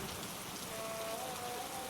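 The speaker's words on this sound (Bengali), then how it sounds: "জোরে ঝড় বৃষ্টি শুরু হয় ঘন ঘন বাজও পড়তে থাকে" Steady storm rain pours on a surface as a dense, even hiss, close and moderately loud for the whole stretch, with a faint tonal whine in the background and no voices.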